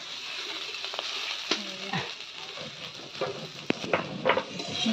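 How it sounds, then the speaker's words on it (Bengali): Brinjal and teasel gourd slices fry together in a pan with a soft sizzle, broken up by light clinks and scrapes of a utensil against the pan. "বেগুন ভাজা আর কাঁকরোল ভাজা একসাথে"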